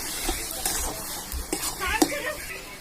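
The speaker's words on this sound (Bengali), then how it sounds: "এরপর তরকারি নাড়াচাড়া করে নামিয়ে নেবো।" Vegetable curry frying in a pan is stirred with a utensil, giving a low background sizzle broken by several sharp scraping and clinking strokes against the pan at irregular intervals.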